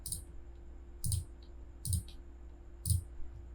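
Four sharp mouse clicks spaced about a second apart, quiet and close, with steady low electrical hum underneath and no talking, while working in AutoCAD drawing software.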